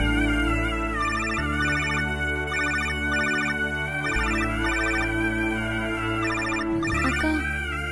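A mobile phone rings with an incoming call, its repeating melodic ringtone pattern playing loud and steady over a sustained musical backing, with no talking.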